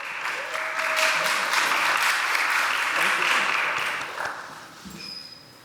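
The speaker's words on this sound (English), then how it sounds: "Clap them hands" Audience at a spring showcase claps steadily for several seconds, loud and dense, then tapers off toward the end.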